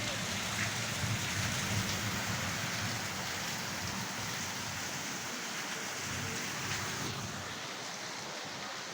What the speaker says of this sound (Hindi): जबरदस्त बारिश।